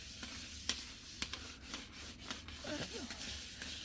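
A scrub pad rubbing over the metal inside an oven, faint irregular scraping strokes with a few sharper clicks, heard close and quiet.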